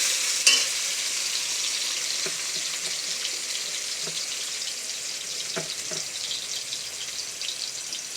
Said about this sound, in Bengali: কড়াইতে আমি আলু আর পেঁয়াজটা দিয়ে দিলাম।